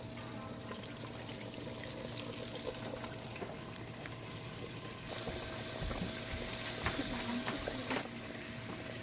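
Continuous bubbling sizzle of buttermilk-and-flour-coated chicken breast frying in hot oil, steady and close, with a slight swell in intensity partway through; no talking.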